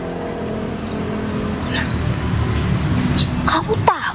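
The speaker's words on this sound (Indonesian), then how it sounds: "Ada mobil si Jack lewat." A car drives past in the background, a steady low engine rumble that swells slightly toward the end, with a short sharp knock near the close.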